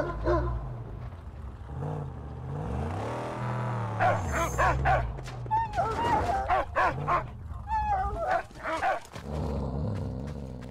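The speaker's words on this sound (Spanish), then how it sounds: "Yo creo que ladra." Dog barking in the Mad Max video game, a run of loud barks, yips and whimpers over a low rumbling vehicle engine.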